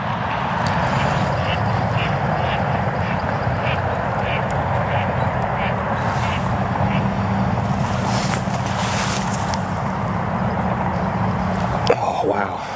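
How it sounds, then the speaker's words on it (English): Mallard ducks flying in over a small thawed patch of a mostly iced-over lake, quacking repeatedly amid steady wind noise, with a brief sharp sound near the end. "We just had a bunch of ducks come in right behind me here"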